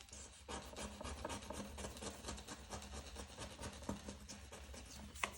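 Paper budget envelope scratched with a scraping tool, a faint, close, continuous rasping with rapid repeated strokes.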